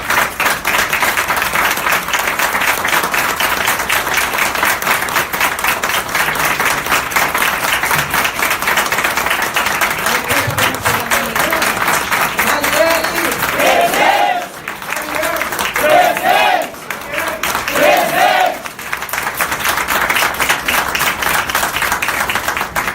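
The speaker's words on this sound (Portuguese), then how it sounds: "Eu peço que a gente faça uma salva de palmas em pé." An audience at a report launch rises for a standing ovation, with dense sustained clapping filling the room and a few voices calling out briefly through the middle.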